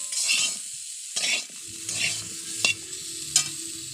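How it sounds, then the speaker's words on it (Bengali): Vegetables frying in hot oil in a pan with a pinch of salt, giving a steady sizzle alone, with several sharp bursts and scraping stirs of a utensil against the pan. "সামান্য নুন ছড়িয়ে ভালো করে ভেজে নিচ্ছি।"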